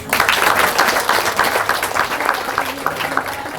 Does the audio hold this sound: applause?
yes